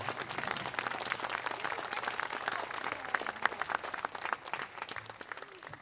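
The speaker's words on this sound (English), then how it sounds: "I think give yourselves a round of applause" A concert audience at a show bursts into steady applause: dense, even clapping from many hands that holds for several seconds, close and full, with no speech over it.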